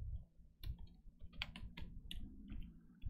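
Keys on a computer keyboard are pressed in a quick, irregular run of close, crisp clicks and taps, with no talking, over a low background hum.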